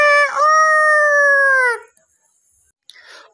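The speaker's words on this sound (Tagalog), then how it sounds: "ang alagang manok na si Ricky." A pet rooster named Ricky lets out a single loud, close crow lasting over a second with a strong harmonic, drawn-out tone, then it goes quiet before a brief soft rustle.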